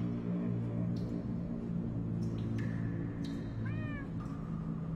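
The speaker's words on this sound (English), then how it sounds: "That almost sounds like... cats?" Several cat meows in the Minecraft Story Mode video game, a string of short rising and falling mews over a steady low background hum, with no talking.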